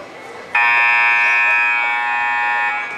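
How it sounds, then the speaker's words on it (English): A loud electronic buzzer sounds at a high school basketball game during a timeout, a steady harmonic tone that starts abruptly and holds for over two seconds before fading slightly. "Buzzer's ringing. Timeout's up."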